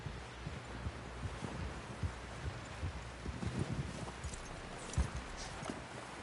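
Horse hooves clip-clop in a steady, uneven walking rhythm, fairly close and moderately loud, in the open-world video game Red Dead Redemption 2, with ambient background noise and no talk.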